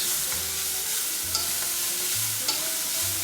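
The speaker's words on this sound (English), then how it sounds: "I'm just going to saute that quickly" Coriander root sautés quickly in a pan with a steady, close sizzle, joined by a couple of soft utensil taps and low stirring rumbles; no speech.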